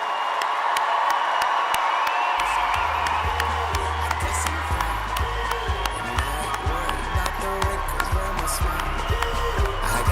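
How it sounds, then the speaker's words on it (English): A graduation ceremony crowd breaks into sustained applause and cheering, dense clapping with scattered whoops filling the hall, while a voice carries faintly underneath. "Let's give a very big rousing round of applause for our graduates of Charles Spencer"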